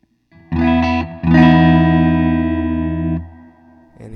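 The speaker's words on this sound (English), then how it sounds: "I'm playing through a standard American Telecaster into a Vox AC30." Electric guitar from an American Telecaster into a Vox AC30 amp, played dry: two sustained chords ring out loud and clear, the second held for about two seconds before fading, with no talking.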